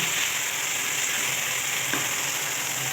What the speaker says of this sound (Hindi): इसको 5 मिनट तक अच्छे से फ्राई करेंगे ताकि कीमे की स्मेल खत्म हो जाए और लहसुन अदरक की।